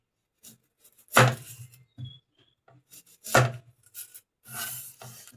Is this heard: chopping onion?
yes